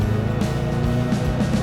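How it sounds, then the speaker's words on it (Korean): A steady mechanical whine with a low engine drone, continuous and fairly loud throughout, a car's gearbox spinning under acceleration in BeamNG. "이건 이제 기어 돌아가는 소리예요."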